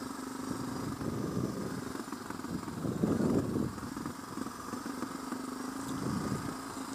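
A DR650 dual-sport motorcycle engine drones steadily while riding, a mid-pitched continuous hum with gentle swells in loudness and wind noise, no speech.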